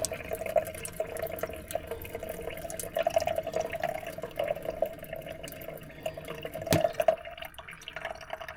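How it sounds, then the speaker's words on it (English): Water driven out of a Casita camper's water lines by its pump, a faint trickle and drip with a steady low whine beneath, quiet and continuous with a few sharper splashes. "run any water that might be in the lines out"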